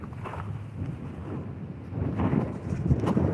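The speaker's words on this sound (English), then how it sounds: "it's pretty windy" Gusty wind buffets the microphone beside the Mississippi River during a catfishing outing: a steady low rumble that builds stronger toward the end, with no voices.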